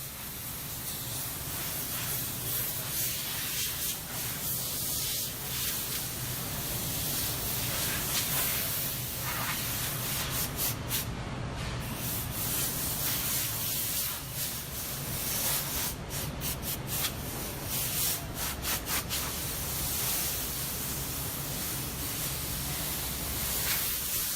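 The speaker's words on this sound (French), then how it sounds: "Le bruit que vous entendez, c'est le pistolet à peinture." Paint spray gun hissing steadily as it coats a large carnival float head in a workshop, a continuous close spray with brief pauses and clicks as the trigger is released and pressed again.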